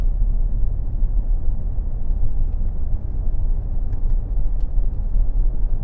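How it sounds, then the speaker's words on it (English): A Range Rover Sport Black Edition in dynamic mode rounds a motorway roundabout, its engine and road noise forming a steady, close low rumble throughout with no talking. "This is a good test for a car coming around the final roundabout on the motorway"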